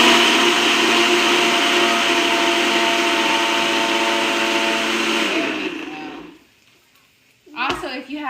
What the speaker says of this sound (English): And then we're gonna blend.